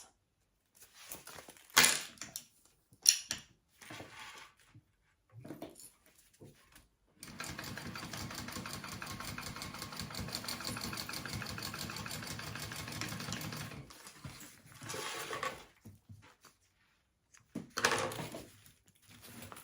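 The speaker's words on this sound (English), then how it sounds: "now I'm going to sew that at my seam allowance" A sewing machine runs a continuous stitching burst of about seven seconds along the lining seam of a mini backpack, with quieter handling noises and short machine bursts before and after.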